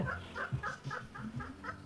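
A hen clucks repeatedly in a steady rhythm of short, soft calls, fairly close, over low background noise.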